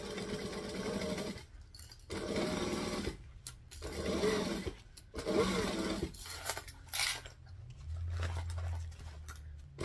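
A sewing machine stitches piping in rapid whirring runs separated by short pauses, close and fairly quiet, with the machine's motor hum continuing between bursts.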